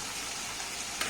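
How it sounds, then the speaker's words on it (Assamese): Halved cherry tomatoes stir-fry in hot oil with salt in a pan, giving a brief, steady, close sizzling hiss. "কণবিলাহীকেইটা ভালদৰে সিজি উঠালৈকে লৰাই এনেদৰে ভাজি লৈছোঁ।"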